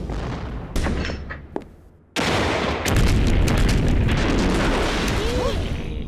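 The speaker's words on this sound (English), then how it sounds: "My favorite CD, Military Explosions" Booming explosions and bursts of gunfire erupt, a few scattered blasts followed by a sudden loud, continuous barrage with rumbling and crackling, with voices mixed in.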